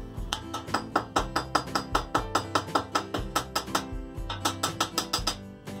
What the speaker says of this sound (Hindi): इसमें रिविट टूल की आवश्यकता नहीं पड़ती, ये ऐसे ही हथौड़ी से ठोक सकते हैं।